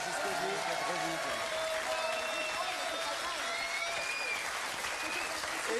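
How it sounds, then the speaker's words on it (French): Studio audience at a French TV quiz show applauds loudly and continuously, with crowd noise and a host's voice talking over the clapping. "on peut l'applaudir aussi très fort"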